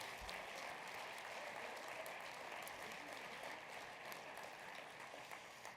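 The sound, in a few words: audience applause for veterans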